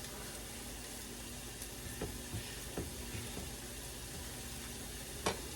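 Poblano peppers sizzling in a pan, a steady frying hiss with a few soft clicks and scrapes as they are stirred. No one speaks.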